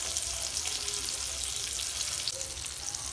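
Bangda mackerel fish frying in a pan, a steady dense sizzle of hot oil that stays loud and even throughout with no voices.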